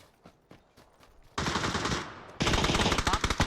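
Heavy automatic gunfire from the battle royale game PUBG erupts after quieter sounds, in two loud, sustained bursts of rapid shots.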